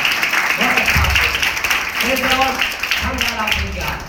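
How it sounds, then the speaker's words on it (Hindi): An audience in a church youth gathering applauds steadily throughout, a dense wash of clapping running under a voice speaking over it. "सबके लिए तालियां, अपने आप के लिए बजाए"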